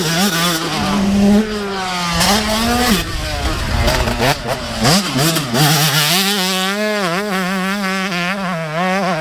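A dirt bike fitted with a Boyesen Rad Valve EVO two-stroke engine rises and falls through repeated revs as it rides. The buzzy engine tone is loud and close, with a little background talk.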